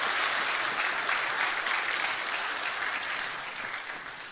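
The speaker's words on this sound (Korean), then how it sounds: "다시 한번 박수하겠습니다." A church congregation at a Sunday service applauds, with steady, dense clapping from many hands filling the room before it slowly tapers off.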